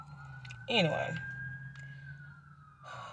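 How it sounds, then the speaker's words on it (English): An ambulance siren wails steadily in the distance outside a truck parked at a park, a faint rising and falling tone heard beneath someone speaking close by. "I'm sorry if y'all hear the ambulance."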